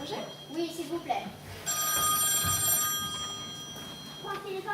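A telephone bell rings loudly for a couple of seconds in the middle, with speech and a voice around it.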